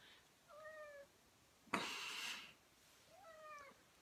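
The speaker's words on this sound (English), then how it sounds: "This is Cassie, my pregnant cat." A pregnant cat meows twice, two clear drawn-out calls separated by a brief louder rustle, close to the listener in a quiet room.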